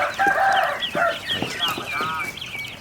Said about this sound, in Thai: ไก่บาพีมันล็อก25ตัวนะครับ